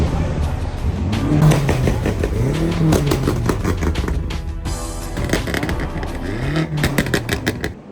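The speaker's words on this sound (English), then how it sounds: "you hear the BMWs. That's the M5 and an X6M making good amount of noise." BMW M5 and X6M engines rev repeatedly on a street in Accra, with rising and falling surges and passing roars amid a busy mix of traffic, loud and fairly near, with voices in the background.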